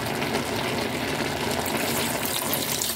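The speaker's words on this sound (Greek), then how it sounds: "Θα βάλουμε λοιπόν και λίγο νεράκι τώρα" Water poured into a pan of browned pork shoulder with vegetables, a steady, dense splashing rush that runs continuously for the whole stretch with no talk.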